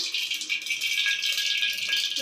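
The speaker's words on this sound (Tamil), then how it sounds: "ஒரு கரண்டி கடுகு, கடுகு நல்லா பொரிஞ்சதுக்கப்புறம்" Mustard seeds spluttering in hot oil for egg biryani, a dense, steady crackle of tiny pops running close and loud throughout, with no voices.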